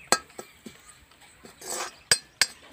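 A spoon stirring red chili, turmeric and asafoetida together in a kadhai for lauki raita: sharp metallic clinks and taps at an uneven pace, with one brief scraping swish in the middle, close and clear with no talk.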